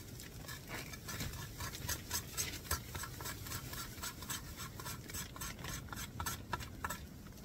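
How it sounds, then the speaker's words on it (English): A knife scrapes a piece of fatwood into tiny shavings for ferro rod tinder outdoors in a winter storm, a close, steady run of short rasping strokes in quick rhythm with no talk. "here I'm just scraping a piece of fat wood to get some really small pieces that'll catch the ferro rod"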